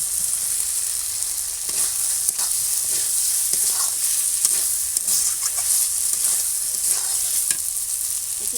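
Fried paneer and potato tossed into a sizzling spice masala in a pan, loud steady hissing with repeated stirring scrapes and knocks throughout; no talking.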